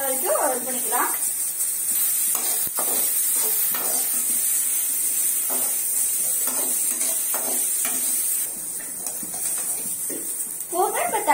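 Samosa filling frying in a pan until brown, with a steady high sizzle under someone talking close by throughout.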